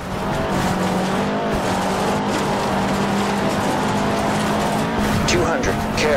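Rally race cars in Forza Horizon roar continuously at close range, a sustained engine drone with tyre squeal and gravel skidding layered on top, loud and unbroken throughout.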